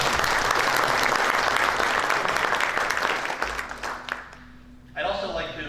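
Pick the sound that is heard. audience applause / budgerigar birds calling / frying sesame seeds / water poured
audience applause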